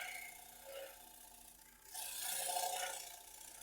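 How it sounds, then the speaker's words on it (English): A Sorby round nose scraper held on edge makes a shear cut across a turned wooden bowl, giving soft raspy scraping strokes, a quieter rub followed by a brighter hissing pass, close and faint. "I'm going up on edge, and I'm going to do a shear cut to try and blend that"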